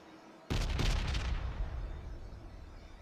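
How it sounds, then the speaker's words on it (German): A single heavy artillery blast from the strategy game Pandora, opening with a sharp boom that rolls into a long rumbling decay, with a few crackling follow-up reports inside the first second. "Jetzt nehmen wir uns hier die Artillerie. Die kann, glaube ich, 2 Geländefelder weit schießen."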